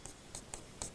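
A pen scratches briefly across paper in four quick, faint strokes, close up and quiet, while a chemistry problem is worked out by hand.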